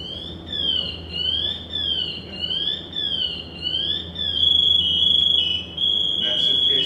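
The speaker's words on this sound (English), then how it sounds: "If you stop moving for a certain amount of time, it'll start that alarm. It starts out slowly, it'll get louder and louder and louder." A firefighter's motion alarm sounds in repeating rising-and-falling electronic chirps that grow louder, then switch to a steady, loud continuous tone, over low background rumble.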